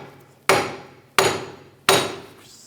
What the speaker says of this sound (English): Now I'm going to take the hammer, just give it a tap on the back side.